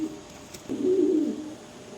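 A single soft, low pigeon coo, close and brief, rising out of quiet background noise.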